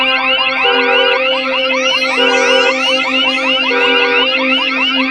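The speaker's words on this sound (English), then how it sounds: "making its triumphant return, the car alarm from the beta testing" A loud electronic car alarm sound from the RUNO Saturn V software instrument cycles through warbling, whooping siren tones in a repeating pattern, continuous and close.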